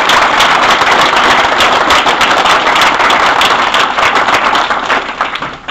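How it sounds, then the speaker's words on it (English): An audience at a graduation ceremony breaks into loud, dense applause, many hands clapping together in a sustained roar that thins slightly toward the end. "can we give a round of applause for the group that's not represented?"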